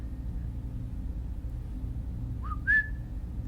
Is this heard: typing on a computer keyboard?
no